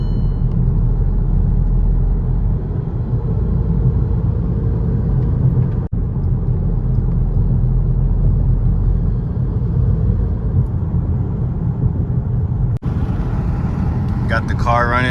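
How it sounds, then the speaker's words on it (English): A diesel engine in a 2014 Volkswagen Passat TDI idles loudly and steadily nearby, a low rumbling drone that continues unbroken, with a voice briefly heard near the end. "Got the car running."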